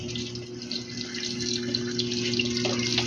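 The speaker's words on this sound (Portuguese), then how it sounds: "Vou abrir a torneira." Water runs from an opened tap into the inlet valve of a Samsung washer-dryer, a steady close hiss and rush with a constant low hum underneath for the whole stretch, no voices.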